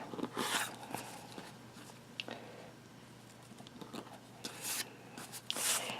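Quilt squares of fabric are trimmed with a rotary cutter against a ruler, giving quiet, close scraping strokes and soft taps that come in short bursts separated by pauses, with no voices.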